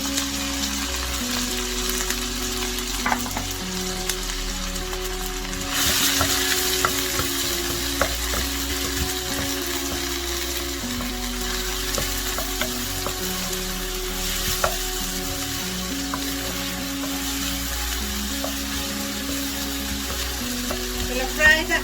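Finely chopped onion fries in hot oil after meat has been browned, giving a steady close sizzle and crackle with occasional stirring scrapes and a brief louder burst of spitting partway through.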